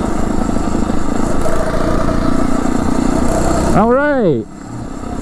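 Engine of a Phatmoto motorized bike ridden on a gravel road, a steady loud drone throughout that ends in a rising then falling pitch sweep before cutting back; a voice speaks briefly.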